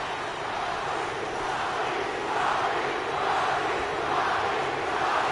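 A large wrestling arena crowd roars and cheers continuously, a dense wash of noise that swells slightly louder partway through and stays up.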